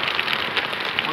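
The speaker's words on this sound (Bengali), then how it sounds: "বৃষ্টি হচ্ছে এখন অনেক।" Heavy rain pours onto a street in Moghbazar, a dense, steady hiss of drops hitting the surface close by.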